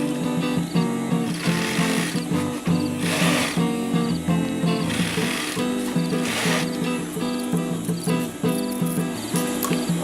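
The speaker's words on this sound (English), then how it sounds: "Place it under the sewing foot and start sewing." An electric sewing machine stitching a DIY zipper pouch, a fast, steady mechanical whirring chatter running continuously at close range with no voices.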